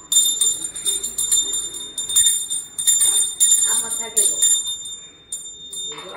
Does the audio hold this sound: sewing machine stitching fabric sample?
no